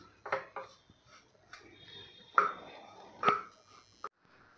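Bajra flour roasts in a pan while a spoon breaks up lumps, giving quiet, close, irregular scrapes and a few sharp metallic clinks, with soft pauses in between.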